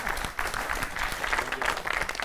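A crowd applauds steadily at a Hindi comic poetry event, a dense wash of many hands clapping throughout the short stretch.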